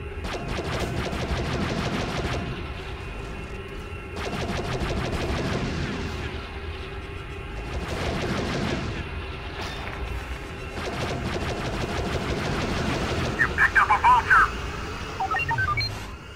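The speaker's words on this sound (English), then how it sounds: "Their ship guns are pounding our shields." Ship guns in the video game Star Wars Battlefront 2 pound away in repeated heavy volleys over a steady battle drone, while voices talk throughout.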